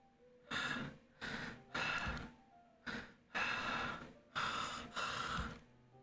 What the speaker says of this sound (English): It sounds like breathing. A sharp inhale, like someone is sucking the air through their teeth.